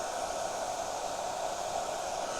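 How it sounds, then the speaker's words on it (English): A hair dryer blows steadily over a plastic container to soften leftover sticky label glue, a constant, even whooshing rush that holds unchanged throughout with no voices. "I bet you've never started a gardening project with a hairdryer before."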